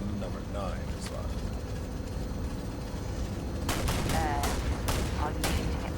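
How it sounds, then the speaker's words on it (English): A rapid volley of gunshots from test firing a gun in the space game Starfield, a burst of cracks in the second half. The shots are heard over a steady background rumble, and a voice speaks briefly near the start. "Are you shooting at flies now? I'm test shooting."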